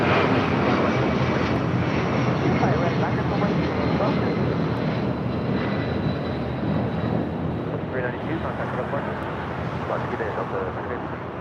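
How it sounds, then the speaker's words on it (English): Delta Boeing 757 taking off from the south side runways at LAX, a loud sustained jet engine roar with wind buffeting that slowly fades as the aircraft climbs away, with a voice talking over it. "That was the Delta 757 taking off here on the south side"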